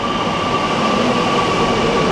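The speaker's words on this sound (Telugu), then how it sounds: "మెట్రో వచ్చేసింది." A Kochi Metro train pulls into the station with a loud, continuous rumble and a steady electric whine, heard alone with no talk.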